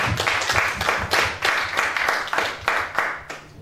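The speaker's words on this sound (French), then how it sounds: "Applaudissements très fort pour le Seigneur." Rhythmic clapping from a church congregation during worship, hands striking together in a steady, roughly regular beat over a low background hum.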